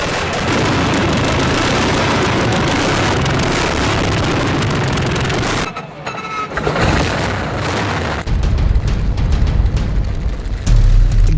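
A BMW race car fitted with a 46-liter aircraft engine roars loudly and steadily, briefly dropping to a lower rumble midway before surging back up to a heavy, booming roar.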